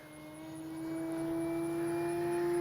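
Avios Kobuz 2.2m RC plane on a 4,000 Turnigy battery flying by, a steady electric motor whine with a clear tone that swells louder as it approaches.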